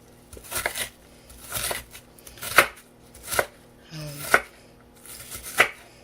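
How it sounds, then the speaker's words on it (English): Onion chopped with a knife on a cutting board, about six crisp, evenly spaced thuds close by, with faint background between strokes. "I'm just going to cut some onion here and add that in."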